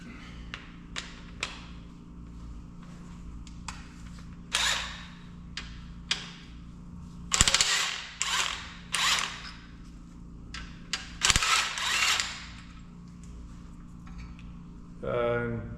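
Bolts and a rear cover come off a Detroit Diesel Silver 4-53T engine during teardown: scattered ratchet clicks and metallic clinks, then bursts of power-tool whirring and a couple of sharp knocks, close and fairly quiet.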